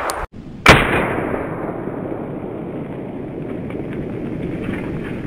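A single sharp gunshot from a .30 carbine cracks up close and loud, then a long reverberating tail of noise fades slowly behind it.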